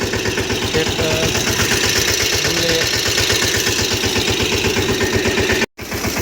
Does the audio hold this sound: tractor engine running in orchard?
yes